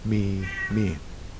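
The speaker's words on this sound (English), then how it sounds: "That's my cat meowing if you can hear her." A 20-year-old cat meows twice, close and clear, the first call longer and the second shorter, followed by a quiet room.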